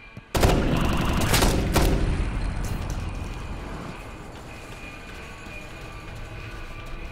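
Sustained gunfire bursts out abruptly in Ghost Recon Future Soldier during a Nigeria mission, loud and dense with sharp cracks in the first two seconds, then a long rumbling wash that slowly fades under steady background noise.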